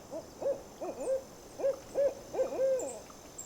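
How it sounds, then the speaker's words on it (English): An owl hoots repeatedly from trees very close by, in a run of wavering calls in foggy, rainy woodland, with no voices over it. "Somewhere very, very close in one of these trees is an owl."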